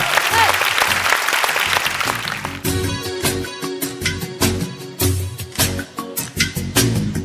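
Audience at a Kozhikode mimicry and music show claps loudly and steadily, the applause settling into rhythmic clapping in time alongside music.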